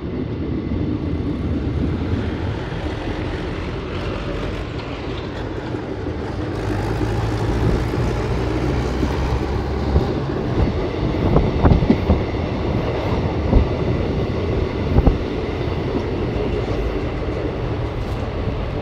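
An Ahmadpur–Katwa passenger train rolls along with a loud, steady low rumble, its wheels clattering and knocking at irregular intervals over the track throughout; no voices are heard.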